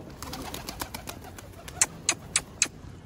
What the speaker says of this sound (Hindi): मैं ऊपर चढ़ाता हूँ थोड़े से कबूतर